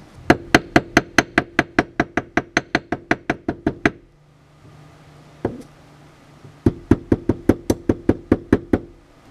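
Crooked vise jaws squeeze a carburetor part straight while it is hammered: a fast, loud run of about twenty sharp metal knocks, a pause with one knock, then another steady burst of blows.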